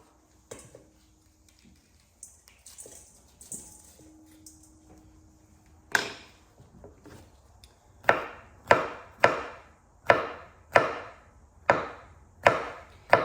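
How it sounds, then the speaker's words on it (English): A knife chops peppers for pickling on a wooden board, starting with scattered light taps, then settling into a run of sharp, evenly spaced chops up close, with no talking. "you can chop these or cut these in rings if you want to keep the seeds"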